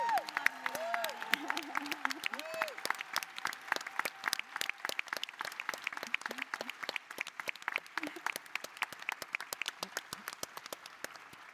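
Audience at a Democratic National Convention Women's Caucus meeting in Chicago applauding the outgoing caucus chair, a steady sustained patter of many hands clapping throughout, with a faint voice early on.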